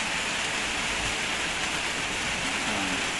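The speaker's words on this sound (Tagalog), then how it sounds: "Oh my God, lumalakas ang ulan." Heavy rain pours down in a dense, even roar that fills the clip without a break, close and loud, with no voices.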